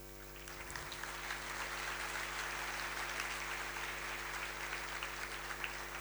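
Applause from an audience after a dance performance at a youth camp opening ceremony, a steady wash of clapping lasting several seconds over a constant low electrical hum.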